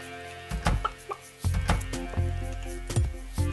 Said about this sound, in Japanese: お、ニワトリがもう外にいる。